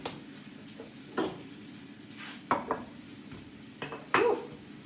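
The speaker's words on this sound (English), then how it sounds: "I'll use my knife just to stir those." A knife stirs beans in a hot dish, giving a few sparse, quiet metallic clinks and scrapes against the dish with no talking.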